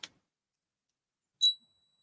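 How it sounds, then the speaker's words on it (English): A short, faint electronic tick near the start, then one sharp high continuity beep from a voltmeter after a pause, in an otherwise quiet room. "You should hear a little beeping noise."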